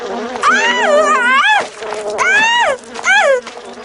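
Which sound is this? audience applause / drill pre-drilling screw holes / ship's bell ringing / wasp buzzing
wasp buzzing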